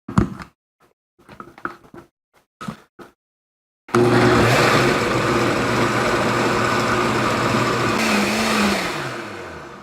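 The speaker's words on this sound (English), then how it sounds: "Put it in the blender." A few short clunks and clicks, then a blender roars on loudly and whirs steadily for several seconds blending roasted butternut squash soup, its pitch shifting slightly near the end.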